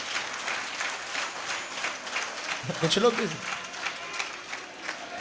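A crowd claps at a Bageshwar Dham religious gathering, a steady wash of applause running through the whole stretch beneath someone speaking.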